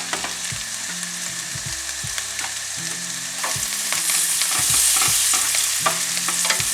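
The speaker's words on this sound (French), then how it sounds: "J'ai mis mes saucisses à feu doux, comme ça au moins ça cuit tranquillou." Sausages sizzling steadily over low heat in a pan, with occasional scraping and stirring clinks up close; no one speaks.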